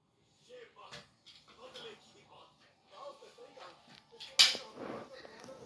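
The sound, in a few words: toy gun firing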